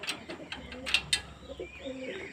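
A coop gate is opened to let out seven male pigeons: several sharp metallic clicks and rattles, then low cooing and a few brighter notes, all fairly close.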